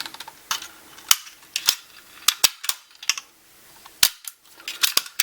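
Blowback blank pistol firing, a series of sharp, loud cracking shots at irregular spacing, some in quick pairs, with brief mechanical clicks between them and no voices.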